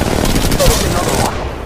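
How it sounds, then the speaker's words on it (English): Rapid automatic gunfire in the mobile battle royale shooter Apex Legends Mobile, loud and continuous bursts up close that cut off abruptly near the end. "Enemy is firing!"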